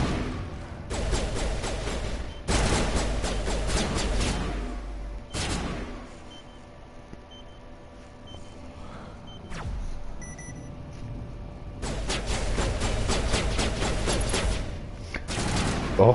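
Video game gunfire from Mass Effect, with dense automatic bursts that come and go in several long volleys, a quieter stretch in the middle, then loud rapid fire again near the end.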